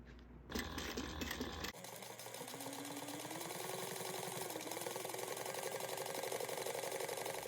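A sewing machine stitching a bag's lining and exterior together with lengthened stitches, a steady rapid mechanical whir close by after a brief louder burst of handling at the start, with no talking.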